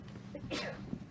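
A single sneeze bursts out near the middle of a conversation, a short sharp breathy blast with a faint catch of breath before it, close to the microphone and fairly quiet.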